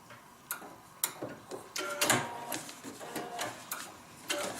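A sewing machine stitching fabric for a paper-pieced log cabin heart gives a few short, close bursts of ticking mechanical clatter separated by brief pauses.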